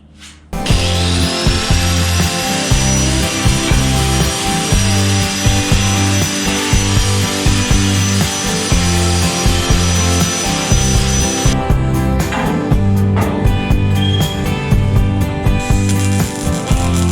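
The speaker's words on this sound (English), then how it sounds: "So we're going to go ahead and start making our first cuts." Power saw cutting through the steel roof of a 1948 Ford during a chop top, a loud, close, continuous grinding buzz that runs for most of the stretch with brief changes in pitch, and no talking.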